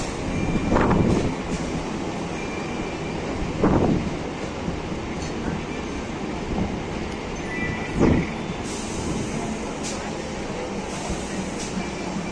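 Local train standing at the No. 1 platform of Sodepur station on the Sealdah–Ranaghat line, a steady rumble of carriages and platform bustle with occasional louder thumps and distant voices.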